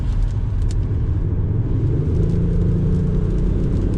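An Audi S4 Avant TDI diesel with automatic transmission hums with a low, steady engine rumble and road noise, heard from inside the moving car, continuous and fairly loud.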